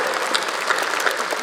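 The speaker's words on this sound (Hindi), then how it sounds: "तालियां जोरदार आपको बजानी है" An audience at a Hindi comedy show breaks into loud, dense applause, a continuous close clatter of many hands with a few sharper claps standing out, and no talk over it.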